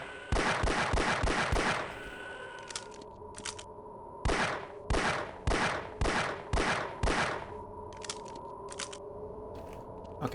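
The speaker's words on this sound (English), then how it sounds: "Alright, we're just going to use the pistol." Half-Life pistol gunshots crack out loud and sharp: a quick volley of about six shots, a pause with a few smaller clicks, then another steady string of single shots, close and alone.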